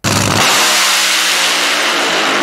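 An NHRA Top Fuel dragster launches with a sudden, extremely loud, dense roar that bursts in at once and holds at full intensity, a broad, harsh blast with no talk over it.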